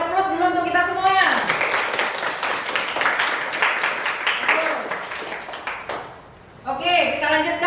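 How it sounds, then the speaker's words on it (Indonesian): An audience in a classroom session on Islamic theology breaks into applause for a few seconds, a burst of many hands clapping between stretches of someone speaking before and after. "untuk semua kita kasih aplaus dulu untuk kita semuanya"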